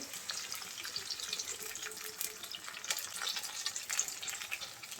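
Water poured into a hot pan of lightly fried onions with cardamom, cinnamon and cloves for a spicy duck curry, giving a steady soft hiss and sizzle that stays fairly quiet and even with no talk.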